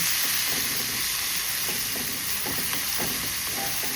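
Green chutney hits a hot pan with turmeric, giving off a steady, dense sizzle and hiss that carries on evenly throughout, with faint stirring underneath.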